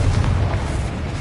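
A Confringo blasting spell explodes in Hogwarts Legacy, a brief, loud, low boom with a rumbling burst that fills the moment alone.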